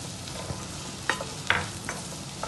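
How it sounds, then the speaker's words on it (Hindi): Capsicum tossed into a pan of sautéing carrots and onions, with soft sizzling under a few distinct clinking stirs spaced about half a second apart, fairly close and quiet. "गाजर और प्याज थोड़ा सॉटे हो चुका, अब इसमें कैप्सिकम भी डाल देंगे"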